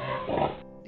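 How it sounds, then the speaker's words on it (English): A pig gives a short, close grunt, a single rough oink under a second long with nothing else around it. "The pig, and they have stocky bodies and short legs."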